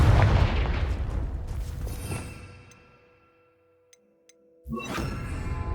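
A Confringo blasting spell goes off in Hogwarts Legacy as a loud, rumbling explosion that fades into silence over a few seconds, followed by a couple of faint ticks and another burst of noise.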